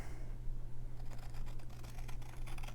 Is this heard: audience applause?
no